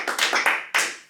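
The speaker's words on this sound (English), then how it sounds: "Let's clap for Bob Wanton." Audience at a community center meeting giving a short burst of applause, about five sharp, separated claps close by, the last one after a brief pause.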